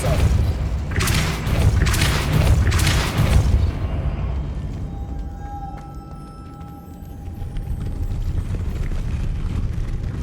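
Depulso push spell in Hogwarts Legacy: a few heavy thumping bursts in quick succession up front, followed by a softer lingering rumble with a faint whine, loud and close, no one speaking.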